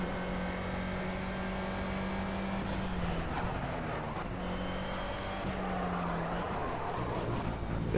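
Race car engine in the Project CARS game held at steady high revs with slight pitch wavers through a drift, a constant close drone with faint tire noise.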